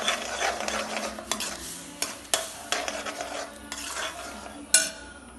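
Salt and turmeric stirred into curd rice with a spoon: steady close mixing and scraping with a few sharper clinks of the utensil against the bowl, no voices.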